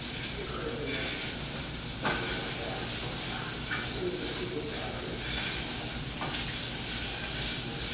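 Sausage sizzling and hissing steadily in a hot pan while being broken up into small pieces, with occasional scraping knocks from a utensil against the pan.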